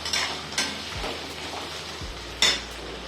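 Boiled potato being stir-fried in a pan, with a soft low sizzle under scattered scraping and clinking of a spatula against the metal, several sharper knocks standing out.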